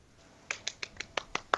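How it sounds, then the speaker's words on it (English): Seven soft, light claps in an even rhythm, quiet and close, with no voices. "Golf clap for the sun."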